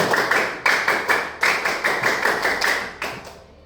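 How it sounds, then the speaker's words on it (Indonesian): Pupils in a classroom perform a single scout-style rhythmic clap, a sharp sequence of about a dozen crisp, loud claps in a patterned rhythm with brief pauses, no talking over it. "Oke, satu kali tepuk pramuka."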